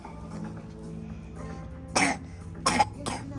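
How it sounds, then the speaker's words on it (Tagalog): Three sharp coughs ring out, one then two close together, fairly near over a soft indoor murmur in a shopping mall. "Ay, may ubo."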